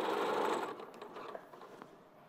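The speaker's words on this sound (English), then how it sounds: "you're just stitching normally, and the elastic is in the bottom, and the cotton is in the top" A sewing machine stitches elastic underneath cotton on a skirt, running in a quick steady whir for about half the time before slowing and trailing off into a few faint taps.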